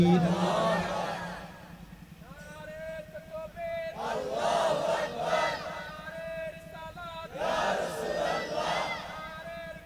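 A large crowd of voices roars the takbir chant in loud repeated collective bursts, answering calls from a man on a microphone at a Sunni gathering.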